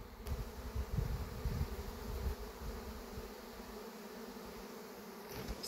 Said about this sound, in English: A swarm of honeybees.